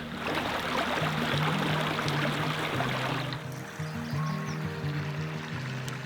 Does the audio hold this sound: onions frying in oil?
no